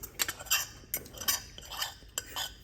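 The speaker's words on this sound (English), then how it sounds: "I'm eating them without even plating them" Green eggs eaten straight from the pan without plating, with several light clinks and scrapes of cutlery against dishware in an uneven rhythm, close and fairly quiet.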